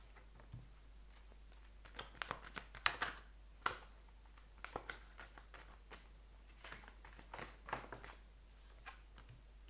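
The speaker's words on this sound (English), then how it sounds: "let me shuffle the cards for you" A deck of tarot cards is shuffled in soft, irregular riffling and flicking bursts, faint and close in a quiet room.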